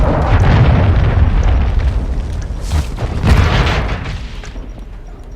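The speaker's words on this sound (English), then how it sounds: "Friendly cruise missile approaching target." A cruise missile blast in Call of Duty: Modern Warfare 2 multiplayer erupts as a loud, deep rumbling boom that rolls on and slowly fades over several seconds.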